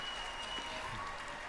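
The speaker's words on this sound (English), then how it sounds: "You clap for that." A comedy show audience applauds in a steady, dense wash of clapping that holds evenly throughout.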